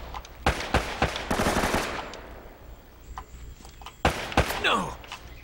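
Rapid bursts of gunfire in the video game Uncharted: Drake's Fortune, loud sharp volleys in two clusters separated by quieter game ambience.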